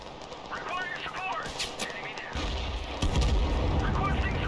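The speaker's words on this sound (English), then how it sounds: "Opening fire." War video game gunfire during a siege battle with armored battalions, shots and booming blasts growing heavier and louder partway through, with a voice talking over the combat.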